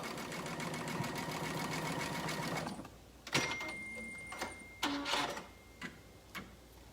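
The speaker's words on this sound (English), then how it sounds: "now I am sewing, let's change to a zigzag. Sewing the elastic together into a circle." A sewing machine runs a steady zigzag stitch joining elastic into a circle, a rapid continuous mechanical rattle for about three seconds, then several short separate bursts and clicks as the stitching stops and starts.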